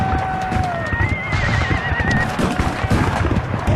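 Horses whinny loudly with long wavering neighs over clattering hooves amid a Civil War battle at Chancellorsville, with distant gunfire crackling in the background.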